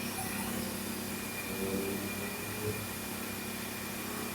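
A machine tool slowly feeds a rough boring cut into collet pads, producing a faint, steady mechanical hum with a constant drone and no distinct impacts, heard close and unchanging throughout.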